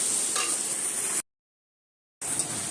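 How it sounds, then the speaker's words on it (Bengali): Capsicum fries in a pan for fried rice with a steady, close sizzling hiss that cuts out for about a second of silence, then resumes. "তো ক্যাপসিকামগুলো আমি এবার ভেজে নেব।"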